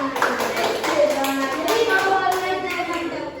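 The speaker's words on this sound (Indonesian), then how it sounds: "Tepuk tangan." Class of students clapping hands together in a classroom, a burst of scattered, overlapping claps mixed with children's voices and chatter throughout.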